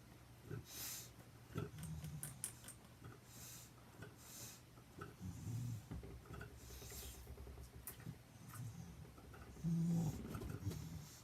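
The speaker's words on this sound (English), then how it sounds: "My dog is coming over." A dog nearby pants, snuffles and sniffs in soft irregular bursts, with faint rustling in a quiet indoor room.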